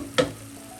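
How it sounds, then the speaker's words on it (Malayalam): Tomato masala for a black pomfret fish curry sautés in a lidded pan on low flame; one sharp tap of a utensil is followed by a faint, soft sizzle. "അടച്ച് വെച്ച് ലോ ഫ്ലെയിമിലൊന്ന് വഴറ്റിയെടുക്കാം"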